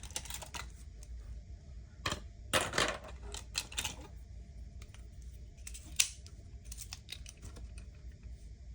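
Scissors snip through paper while laying out a half-letter weekly planner, a quiet series of close, crisp cuts in short bursts with pauses, no talking.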